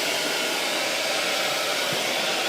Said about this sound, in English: Miss Laura, I wanna show you how to dry this hair.